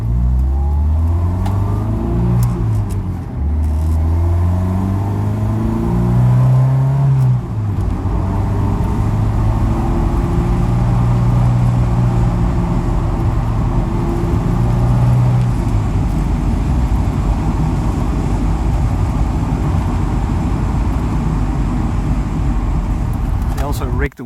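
Steady, loud engine drone from a 1971 Alfa Romeo 2000 Spider Veloce on the move, with rising and falling revs as the gears are shifted slowly, heard from inside the car with a voice talking over it.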